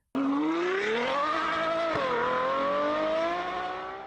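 A Maserati with the Ferrari-derived F136 V8 engine revs hard and close, its tone climbing steadily, dipping briefly, then holding a loud, raspy pitch before fading at the end.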